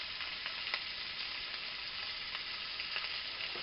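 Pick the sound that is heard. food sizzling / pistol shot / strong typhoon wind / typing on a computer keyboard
food sizzling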